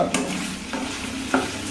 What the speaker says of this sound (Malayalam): വെണ്ടക്ക ചൂടായി കഴിഞ്ഞ് വെണ്ടക്ക എണ്ണയിലോട്ട് ഇടുക